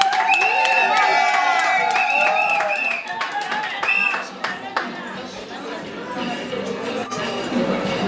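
Applause from guests at a civil wedding ceremony in Yaoundé, a dense patter of clapping mixed with crowd chatter, whoops and cheers, loud at first and easing slightly while voices carry on underneath.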